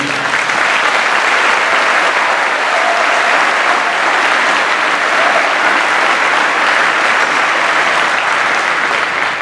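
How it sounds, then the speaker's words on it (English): A large audience at a university graduation ceremony in an arena claps continuously, loud and even throughout, with faint crowd murmur beneath. "Please join me in giving these 2 special people a round of applause."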